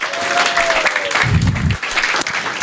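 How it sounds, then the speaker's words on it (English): Applause from an audience at a historical society gathering rolls on steadily, with brief crowd murmurs and a short low rumble partway through. "stand up so we can give you a big round of applause"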